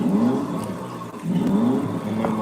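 A motorbike engine revs in a Roblox game, rising in two sustained whining sweeps with a brief dip between them. It sounds steady and moderately loud, with no talking over it.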